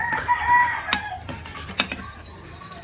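A rooster crows once, a rising and falling call, followed by some faint clucking and light clatter, moderately near.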